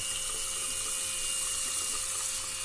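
Hot water runs hard from a bathroom sink tap in an abandoned power plant, a loud, steady rushing stream that fills the whole stretch without a break, no one talking over it.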